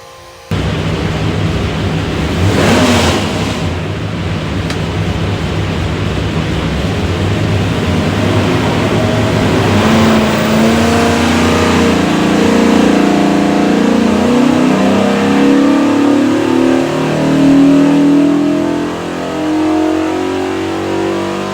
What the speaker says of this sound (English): We'll go in there and make a pull, see what she does.